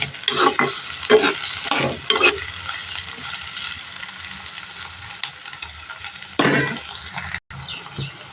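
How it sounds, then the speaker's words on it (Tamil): Capsicum with onion is stirred and fried in a pan for egg gravy: loud scraping spatula strokes in bursts over a constant sizzle, with one sharp clink near the end, no voices. "குடமிளகா சேர்த்து கொஞ்சம் நல்லா கிளறி விட்டுக்குவோம்"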